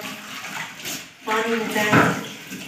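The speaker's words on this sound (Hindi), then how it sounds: "बर्तन वगैरह जो है ये भी धोते हैं साथ साथ।" Tap water runs while dishes are washed in a Pakistani household, a steady close splashing that swells in the second half, with someone talking over it.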